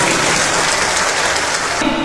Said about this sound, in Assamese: মই কাৰণে আমাৰ চাৰ্কল অফিচাৰৰ কাৰণে এবাৰ হাত চাপৰি দিবলৈ অনুৰোধ কৰিছোঁ।